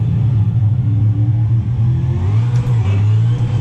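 A V8 supercar engine in a racing simulator game drones steadily with a strong low rumble, rising slightly as it revs over a few seconds, heard alone with no talk.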